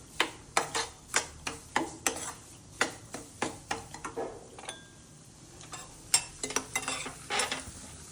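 Cashews frying in ghee over a low flame for suji halwa, with a ladle scraping and tapping the pan in a quick, uneven series of sharp strokes under a soft sizzle, close up and with no talking.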